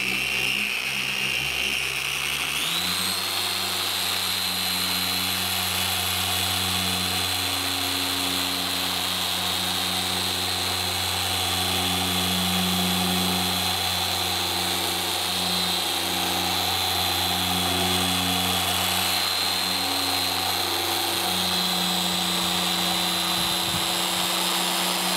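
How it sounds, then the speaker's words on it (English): A Porter-Cable dual-action polisher with a microfiber cutting pad whirs steadily on car paint, a continuous close whine that rises in pitch after spin-up and then holds for a long stretch. "We've got a little porter cable polisher on our website with our microfiber cutting pad that anybody can use."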